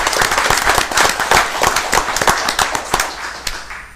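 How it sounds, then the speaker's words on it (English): An audience at a city commission meeting gives a round of applause, a lively burst of many hands clapping that stays strong and then tapers off toward the end, heard alone without talk. "can we give him a round of applause?"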